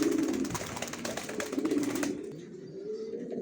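Racing pigeons of the original racer down-shape type, a cooing bird at close range with a steady low murmur running through the whole stretch and a busier flutter of calls in the first two seconds.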